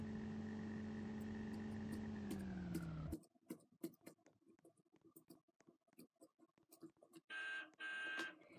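A loud steady electronic beep tone, dropping slightly in pitch, cuts off abruptly, followed by scattered clicks and ticks, then two short bursts of the tone return near the end, in Roblox Bloxburg.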